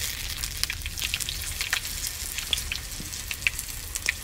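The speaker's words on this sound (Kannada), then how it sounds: "ಎಣ್ಣೆ ಬಿಸಿ ಆದಮೇಲೆ ಸ್ವಲ್ಪ ಸಾಸಿವೆ ಹಾಕುವ, ಒಂದು 1/2 ಚಮಚ ಆಗುವಷ್ಟು. ಸ್ವಲ್ಪ ಬೆಳ್ಳುಳ್ಳಿ ಕೂಡ ಜಜ್ಜಿ ಹಾಕುವ, ಸ್ವಲ್ಪ ಕರಿಬೇವಿನ ಸೊಪ್ಪು" Mustard seeds, crushed garlic and curry leaves sizzle in hot oil, a steady fine crackle broken by sharp little pops and spits, close by and fairly quiet, with no voices.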